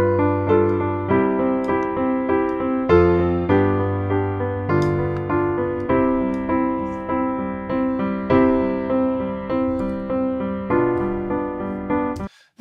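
Sustained Logic Pro 11 Studio Piano chords ring out one after another in a steady sequence, each decaying slowly, with faint mechanical pedal noise turned up beneath.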